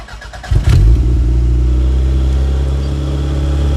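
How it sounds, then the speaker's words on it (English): A Toyota MR2 with an engine swap and custom exhaust cranks briefly and fires up, then settles into a loud, deep, steady idle close by. "All right, let's get it started up."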